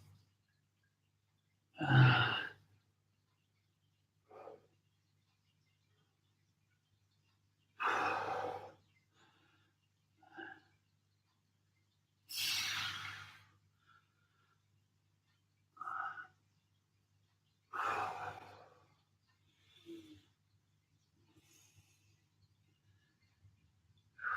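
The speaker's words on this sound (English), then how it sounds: "Big deep breaths." Slow, deep breaths during a home recovery workout session, each audible exhale clear and close, repeated at roughly even intervals against near silence with a faint low hum.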